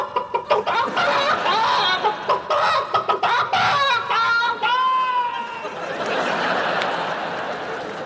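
A chicken clucks in a busy, chattering run of short calls and rising squawks, fairly loud and close, trailing off into a rough breathy noise, with some talk-like chatter mixed in.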